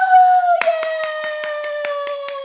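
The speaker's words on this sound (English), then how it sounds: "I'm clapping." A teacher claps her hands in a quick, even series of about ten sharp claps over a sustained ringing musical tone, with no talking.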